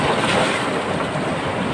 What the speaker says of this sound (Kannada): ಓ, ಅದರ ಅಡ್ಡಿಯಿಂದ ನೀರು ಬರ್ತದೆ ಹಾಗೆ.